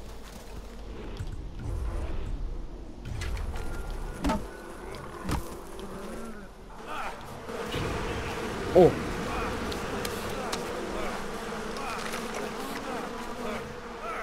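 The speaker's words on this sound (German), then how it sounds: "Ach, das war ein Bienenstock." Bees buzzing around a beehive in the video game Far Cry Primal, a dense continuous drone with a few thumps and an exclaimed voice partway through.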